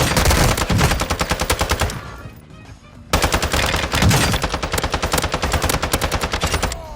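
Rapid automatic ISO Hemlock-style gunfire in the video game Warzone 2, loud and close, firing in two long sustained bursts split by a brief pause, with no talk.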